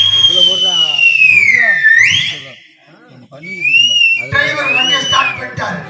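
Loud human whistling: two long, gliding high whistled tones separated by a brief gap, close to the listener, with voices and background bustle underneath.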